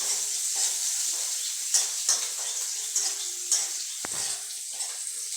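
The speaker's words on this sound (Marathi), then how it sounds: "हिंग, नंतर मिरची तळून घ्यायची ती थोडीशी।" Green chilies and asafoetida fry in hot oil with a loud, continuous close sizzle. Spoon stirs scrape and tap through it at irregular intervals, with one sharp knock near the end, and no one talks.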